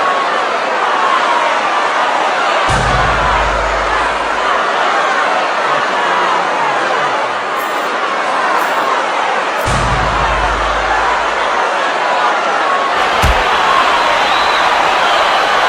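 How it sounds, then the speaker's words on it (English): Dense roar of a large arena crowd at a UFC fight in Mexico City, rising steadily and continuously in reaction to a kick, with a few sharp thuds standing out from the sustained noise. "Great reaction from the crowd."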